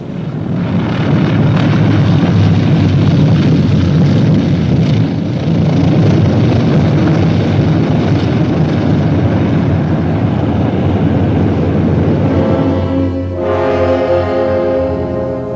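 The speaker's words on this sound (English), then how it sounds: "Troop carrier US 11034, you may land on runway 170." A propeller-driven military troop carrier aircraft approaching to land, a loud continuous engine drone that holds steady and then shifts into a rising tonal hum near the end.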